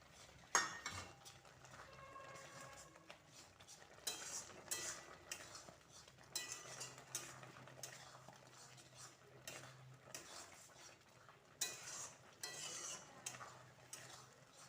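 Semolina is stirred into a pot of boiling salted water, giving soft scraping and clinking of a spoon against the metal pot with an intermittent faint bubbling hiss, all quiet and close.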